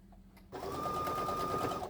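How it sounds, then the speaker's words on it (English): A sewing machine stitches a fabric headcovering, starting abruptly after a quiet moment and then running in a steady, fast, even whir with a continuous mechanical hum, close by and alone. "You don't have to sew that fast. I normally don't sew fast"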